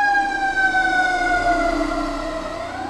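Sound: fire truck siren passing outside the house

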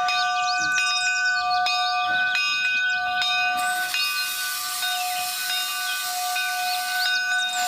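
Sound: toy steam locomotive sound

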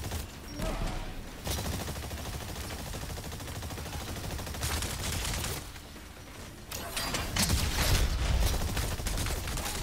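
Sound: gunfire from exosuit weapons in video game Exoprimal

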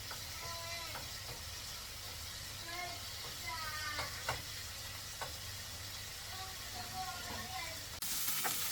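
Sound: chicken frying in coconut oil in a pan

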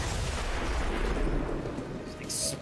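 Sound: explosions in the video game XCOM 2

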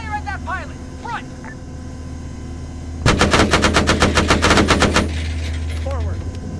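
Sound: machine gun fire in video game ARMA 3

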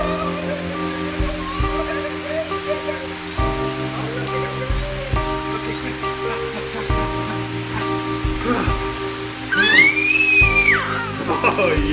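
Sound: summer rain falling

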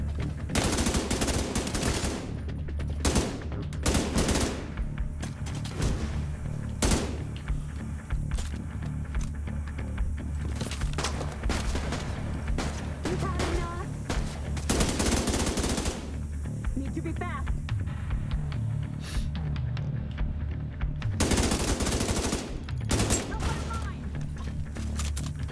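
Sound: machine gun fire from a turret in The Division 2 video game

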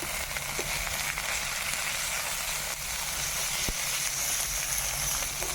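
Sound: bay leaf, dried chilli, cumin and onion sizzling in tempering oil

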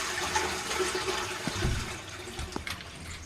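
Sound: toilet flush in Internet Cafe Simulator 2 video game

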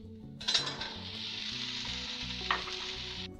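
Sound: green peas frying in pan with asafoetida, garlic, ginger

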